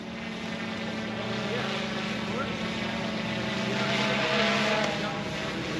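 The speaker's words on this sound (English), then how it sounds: "the drone is doing fine now" A GoPro Karma drone flies outdoors in wind near a skate park, its steady whirring propeller drone holding constant across the whole stretch amid broadband wind and ambient noise, with a faint voice present.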